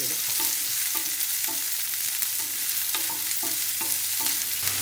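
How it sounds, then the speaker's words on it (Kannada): Onion frying in oil on a hot tava, a constant crackling sizzle with regular spoon strokes scraping and tapping against the pan, close up and without voices. "ಇಷ್ಟನ್ನು ನಾನು ಎಣ್ಣೆಯಲ್ಲಿ ಹುರ್ಕೋತೀನಿ. ತವ ಕಾದಿದೆ. ಈರುಳ್ಳಿ ಸ್ವಲ್ಪ ಫ್ರೈ ಆದಮೇಲೆ"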